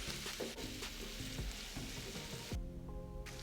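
Tomato paste with seasoning sizzles and crackles in a hot pan while a spoon scrapes and stirs it in, a steady close frying hiss with occasional clinks.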